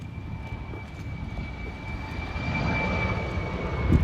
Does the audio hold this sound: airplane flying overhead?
yes